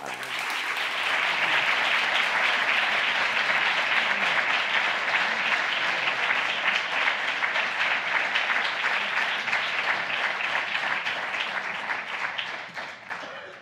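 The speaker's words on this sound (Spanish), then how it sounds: "Un fuerte aplauso, por favor" Warm audience applause after a talk on creativity and artificial intelligence, many hands clapping in a dense, steady roar that swells quickly, holds for over ten seconds, then tapers off.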